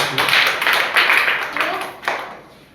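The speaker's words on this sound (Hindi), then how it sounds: "ताली बजाते रहिए।" Children and audience at a middle-school honouring event clap in an uneven patter of hand claps, fairly loud and near, with a few distinct sharp slaps, fading out near the end.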